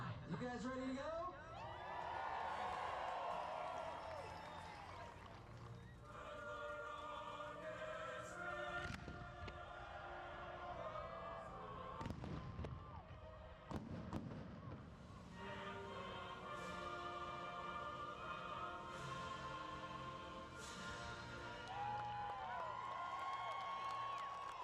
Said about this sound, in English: Look at this crowd tonight. You guys ready to go?